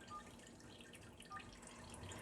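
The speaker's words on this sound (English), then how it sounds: "I wanted to show you the beautiful color that as it's dripping through the jelly bag" Lilac infusion dripping through a jelly bag: a faint, quiet trickle of drops over low background hiss, with no voices.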